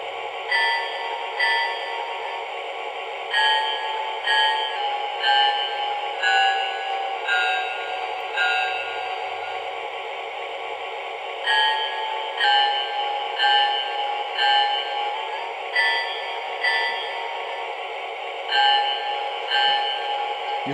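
Bell sound of a Lionel LionChief toy train, triggered through its Bluetooth app, rings in a steady repeating clang-ding pattern for about twenty seconds, clear and close with no talking.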